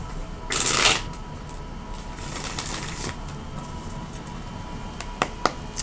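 A deck of tarot cards is shuffled by hand: a quick, loud riffle burst up front, then softer intermittent card slides and a few light taps.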